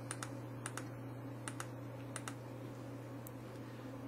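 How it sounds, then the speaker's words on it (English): Arrow keys on a computer keyboard are pressed in quick, light clicks, singly and in pairs, close by and quiet over a steady electrical hum, with no talking. "using the arrow keys on the keyboard, I'm just clicking the left key to align it"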